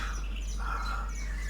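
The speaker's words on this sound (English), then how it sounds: "I'll just move back to the birds chirping." Birds chirp and tweet continuously over a steady background hum, with a brighter call rising midway through the short stretch; no talking is present.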